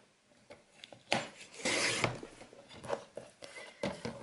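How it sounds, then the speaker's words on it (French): Blade cutting a strip of paper for a scrapbooking project, a run of soft, close, uneven scraping and rasping strokes with a louder drag in the middle. "on va découper un premier morceau"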